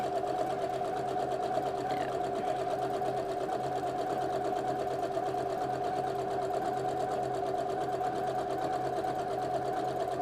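Sewing machine running steadily while back-stitching a shirt, a continuous close mechanical whir with fast rhythmic needle clatter throughout, no speech.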